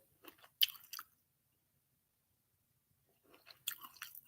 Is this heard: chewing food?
yes